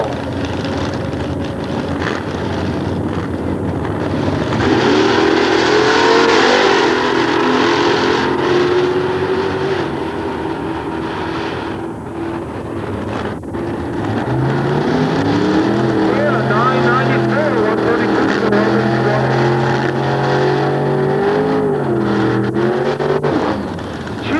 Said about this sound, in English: This thing thunders down for a full-body 39 Chevrolet out of Vancouver, Washington, for Kumo